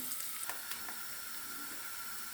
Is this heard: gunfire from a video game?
no